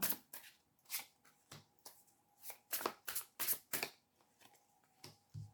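Tarot cards shuffled by hand for a five-card draw, a quiet, close series of crisp riffling bursts in an irregular rhythm with short pauses between them.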